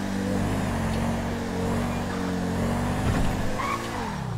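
A car skids on a slippery road in a video game, a loud continuous engine drone with tire squeal and sliding noise, steady throughout with slight pitch shifts near the end.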